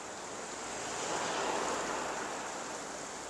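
A river flows below a snowy hot-spring area in Hakone, giving a steady, soft broadband rush of water at moderate distance that swells slightly midway, with no voices.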